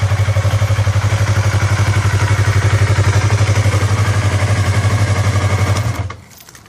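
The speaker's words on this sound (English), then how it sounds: "The old exhaust sounds like." A Yamaha R3 motorcycle runs on its old stock exhaust with a loud, steady, throbbing drone, close by and alone, until it cuts off near the end.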